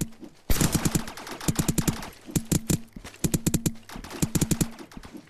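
Gunfire in the video game Realm Royale, several rapid bursts of sharp shots in quick rhythmic clusters with short pauses between, loud and close.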